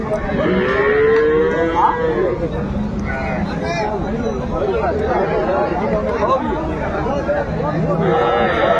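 Cattle at Aftabganj market, where cows with calves are for sale, moo in drawn-out low calls, one near and others farther off, under constant crowd chatter and nearby talking.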